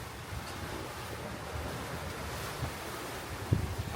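Steady 15-knot wind at sea blowing across the microphone aboard a sailing catamaran off Fiji, with a constant rushing roar and low rumble of water beneath, no voices.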